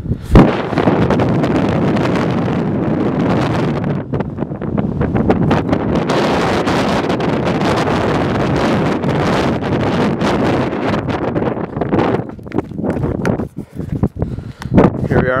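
Strong wind sweeping across open salt flats desert, a loud continuous roar buffeting the microphone with gusty surges throughout.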